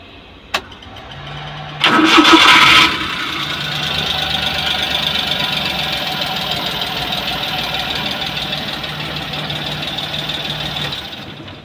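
Suzuki Multicab 12-valve Scrum engine being started: a short cranking burst, then the engine catches and settles into a steady, slightly rough idle that runs on evenly nearby, with no one talking over it.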